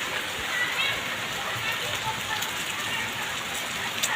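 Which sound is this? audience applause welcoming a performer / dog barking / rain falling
rain falling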